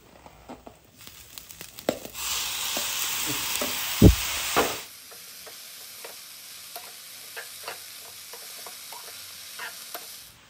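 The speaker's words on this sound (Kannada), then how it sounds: "ಇದಕ್ಕೀಗ ನಾವು ಆಲ್ರೆಡಿ ಬೇಯಿಸಿ ಇಟ್ಟಕ್ಕಂಥ ಗುಜ್ಜಿಯನ್ನು ಇದಕ್ಕೆ ನಾವೀಗ ಹಾಕ್ಕೊಳ್ತಿದ್ದೇವೆ" Cooked guji tipped into a pan of frying masala for gujje sukka, with a loud burst of sizzling and a sharp clatter, then quieter crackling and stirring scrapes.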